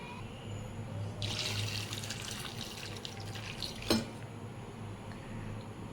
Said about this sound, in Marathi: तर आता यामध्ये शिजण्यासाठी ॲड करते पाणी.